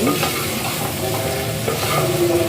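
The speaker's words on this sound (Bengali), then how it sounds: "কচুগুলোকে নেড়ে নিচ্ছি" Taro pieces stirred and fried in spiced oil for a sour South Indian-style dish, a continuous close sizzle with soft scraping from the stirring.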